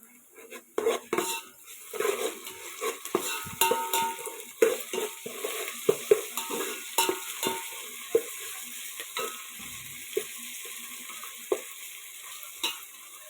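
Ginger paste and dried red chillies fry in a pan for a fish curry, with a steady sizzle under frequent clinks and scrapes of a metal spoon stirring against the pan; no talking.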